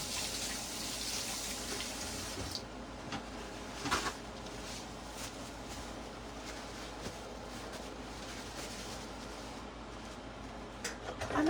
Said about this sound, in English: I'm going to wash my hands really quick